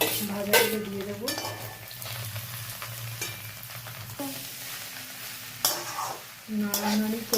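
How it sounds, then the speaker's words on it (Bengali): Egg chowmein being stirred in a frying pan, loud sizzling broken by repeated scraping strokes of a spatula at an uneven rhythm, close up with no talk. "নাড়ানাড়ি করে নিই।"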